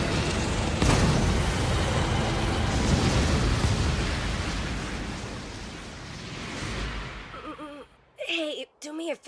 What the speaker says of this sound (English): The item's gonna detonate! And the more money you spent on it, the bigger the explosion!